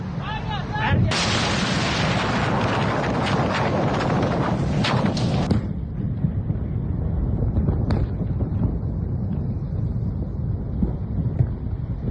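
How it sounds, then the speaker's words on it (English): Artillery fire followed by an explosion in wartime news footage: a sustained, heavy roaring blast dominates the first half, then a sharp detonation cracks out over steady wind buffeting the microphone, with faint voices in the background. "That's the fire followed by this explosion"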